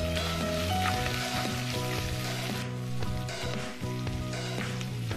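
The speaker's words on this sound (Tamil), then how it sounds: "இதோட வெங்காயத்தை சேர்த்து நல்லா பொன்னிறமா வதக்கிடுங்க" Onion sautéing with urad and chana dal in a hot pan for murungai keerai poriyal, a steady close sizzle and crackle with a faint tonal hum underneath.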